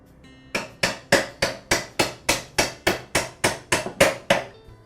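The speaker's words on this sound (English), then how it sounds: "use a hammer to slowly tap the pivot pin back into the saw" A hammer taps a pivot pin into a DeWALT miter saw during a pivot spring repair. Fourteen or so sharp metallic strikes come in an even, steady rhythm, close and clear.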